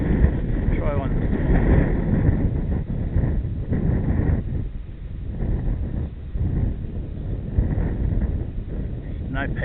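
Gusting wind up to about 25 kph rumbles heavily across the microphone at an open flying field, steady and close with surging gusts, while a voice speaks intermittently.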